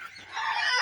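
A penned rooster or chicken calls out in one rising, strained cry that grows louder and holds steady to the end, close by and alone with no talking.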